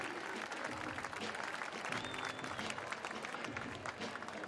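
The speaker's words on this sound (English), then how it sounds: "Big round of applause, ladies and gentlemen, for all the athletes here" Crowd applause for athletes at the CrossFit Games, a dense continuous wash of clapping and cheering from a large audience, fairly distant and steady throughout.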